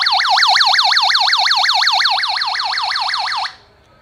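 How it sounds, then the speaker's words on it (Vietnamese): The alarm siren of a small Toshiba TY-JR10 radio flashlight wails in a fast, steady up-and-down sweep for about three and a half seconds, loud and close, then stops abruptly. "Có báo động nữa."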